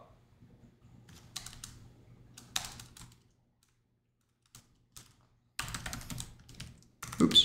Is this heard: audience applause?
no